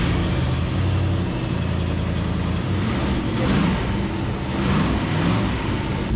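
An old truck engine runs with a steady mid-pitched idle and slight rises in revs, loud and close, with no talk.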